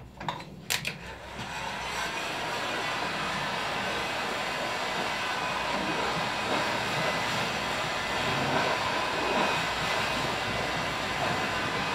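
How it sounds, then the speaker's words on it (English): A ram's horn is warmed to bend it into a shepherd's crook, heard as a steady, loud roaring hiss of heat that runs without a break after a couple of sharp clicks at the start. "Just warming the horn up here."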